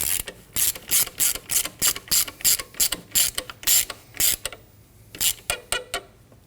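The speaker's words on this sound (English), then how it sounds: "We're going to tighten down the slider bolt for the belt." A ratchet tightens the belt slider bolt on a 2003-2006 Subaru Baja 2.5L H4 during idler pulley work, giving loud close bursts of rapid clicking in quick regular strokes, with a short pause before a final few pulls.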